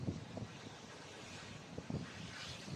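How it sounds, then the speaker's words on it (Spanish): Wind blows along the Coruña coast, a faint, steady rush with a few stronger gusts buffeting the microphone and no voices. "porque aquí hace aire"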